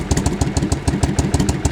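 A motorcycle engine idles with unbalanced carburetors, the front cylinder working harder and revving more than the other, giving a close, loud, lumpy pulsing beat with uneven firing.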